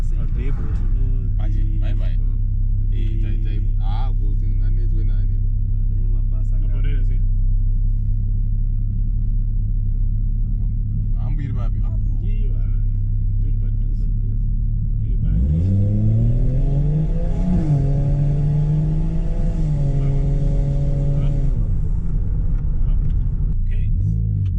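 Supra car engine running: a low, steady idle rumble with some light cabin sounds, then the engine revs up and holds a higher pitch for several seconds before settling back down.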